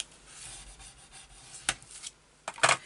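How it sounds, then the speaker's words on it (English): Folded paper for a photo mat is burnished by hand with a tool, giving a soft, quiet rubbing swish followed by a few sharper, louder scraping strokes near the end. "Give this a little burnish,"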